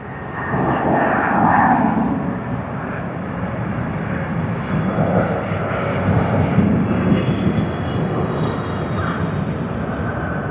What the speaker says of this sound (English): There you are, the Boeing 777-200 LR.